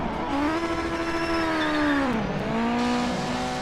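A racing video game car's tires squeal through a handbrake skid over the engine's rising drone, with the pitch bending down and back up as the slide ends.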